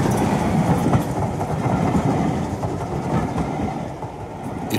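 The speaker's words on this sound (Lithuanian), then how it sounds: "Ir greitasis traukinys apšviestais langais, dundėdamas it griaustinis, sudrebino iešmininko būdelę." An express train with lit windows thunders past a switchman's booth, a dense, steady rumble with faint rhythmic clatter that eases slightly toward the end.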